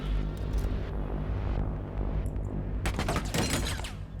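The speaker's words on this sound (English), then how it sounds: "nice headshots there from Mr. Kane." Dense gunfire in a tactical shooter video game during a competitive esports match, with a rapid volley of sharp shots over a low rumbling game soundscape, loud and unbroken by talk.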